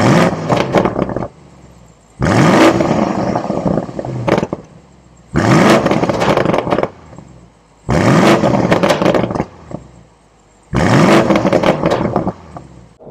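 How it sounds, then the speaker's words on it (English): A 2024 BMW M850i xDrive coupe's N63 V8, warmed up and in Sport Plus, revved repeatedly: five loud roaring exhaust blips of about two seconds each, separated by brief lower idle, close by. "we're going to get some exhaust notes here out of this N63"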